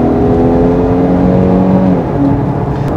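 A steady engine drone hums inside a moving Land Rover Range Rover Evoque SUV, with a low, even tone and a slight shift in pitch partway through. No one speaks.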